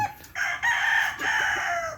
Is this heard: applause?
no